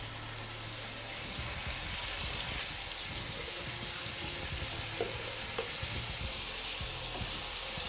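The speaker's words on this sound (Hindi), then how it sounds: "तकरीबन 1 कप मैं दही ऐड कर रही हूँ।" Yogurt going into a sizzling cauliflower biryani masala, a dense continuous frying hiss with some stirring and a soft low rumble underneath, steady and close, no voices.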